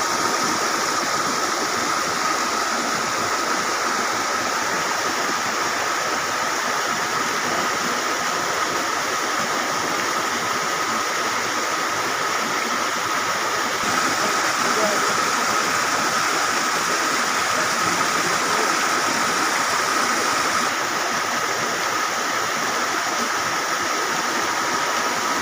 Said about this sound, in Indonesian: Ini Curug Seeng sahabat